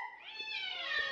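A pet cat at home lets out a single drawn-out meow, close and clear, rising then holding steady for about a second with no talk over it.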